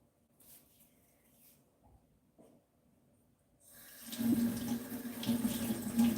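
Tap water runs steadily over an orchid flower being washed under the stream, a broad splashing hiss that starts abruptly after a few quiet seconds and stays loud to the end.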